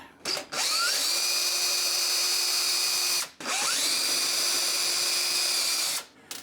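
Cordless power drill backing out security screws from the top cover of a lithium battery pack, two long whining bursts with a short pause between, loud and close with no talk.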